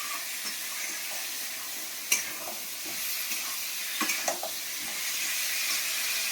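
Egg and potato kosha with pre-boiled potatoes frying in oil in a pan, a steady soft sizzle with occasional scraping stirs and clinks, no talking.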